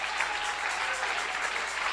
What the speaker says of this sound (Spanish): Denle un aplauso al Señor con todas sus fuerzas.